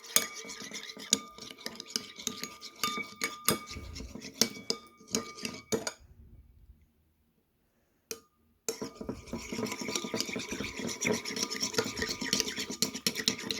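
A soap-containing mixture stirred in a container, dense scraping and clinking of a utensil against the sides, close and busy, then a few seconds of near silence before the stirring resumes steadily.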